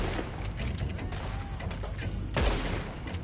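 Gunshots ring out in Red Dead Redemption 2 on the island of Guarma, several moderately loud cracks spaced irregularly, the strongest near the end, over a busy background of game ambience.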